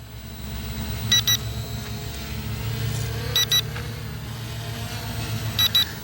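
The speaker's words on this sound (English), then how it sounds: "It's beeping at me and I'm not sure why." A budget Temu drone gives three short, bright double beeps about two seconds apart, standing clearly above a steady low engine-like hum with no talking.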